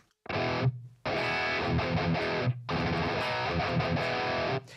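A semi-hollow electric guitar plays heavily distorted chords in two long sustained bursts separated by a brief pause, loud and close.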